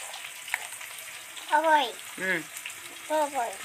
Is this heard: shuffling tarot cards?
no